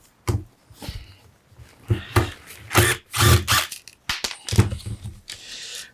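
A small Makita power tool buzzes in short repeated bursts while backing out screws from the covers of a Mercedes hybrid inverter unit, with brief gaps and clicks between each run.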